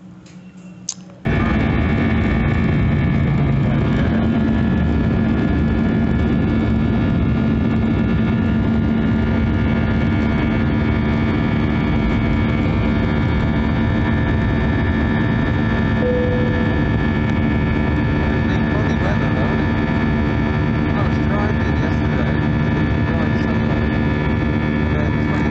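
An easyJet passenger jet's engines hum steadily on a snowy runway at Keflavik, a loud, constant drone with faint ticking over it, heard from close by after a brief quiet start.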